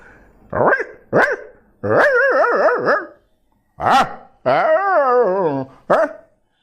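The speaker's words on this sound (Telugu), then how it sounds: "ఇంటి వెనకాలనే అదే దాని వెనకాలనే కుక్క చిన్న కుక్క పిల్ల ఉంటుంది ఇంట్లో" A small puppy yaps and whines in short, high-pitched bursts, with a couple of longer wavering cries between quick barks, close by.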